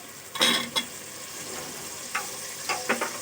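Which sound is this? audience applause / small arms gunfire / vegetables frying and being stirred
vegetables frying and being stirred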